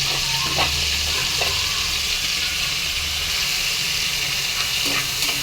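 Dried prawns and curry leaves fry in hot oil with a continuous close sizzle and hiss, broken by occasional stirring scrapes and a low hum, with no talk.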